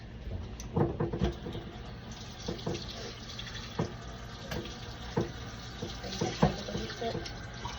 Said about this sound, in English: And then we're going to get half a cup of warm water.